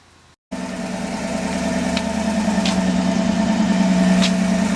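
A 1966 Chevy truck engine catches after a brief silence and settles into a steady, loud idle with a low rumbling hum and faint intermittent clicks, no voices over it.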